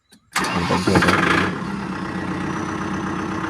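A Kubota tractor engine cranks and catches in the morning, revs briefly, then settles into a steady, rumbling idle nearby.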